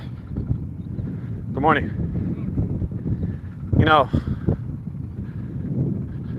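Wind buffets an outdoor microphone in a steady low rumble that swells in gusts, heard beneath a person speaking a greeting.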